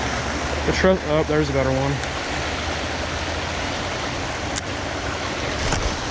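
Creek water pours steadily over a small waterfall in a clear-water creek, a constant broadband rush filling the whole clip while someone speaks briefly near the start.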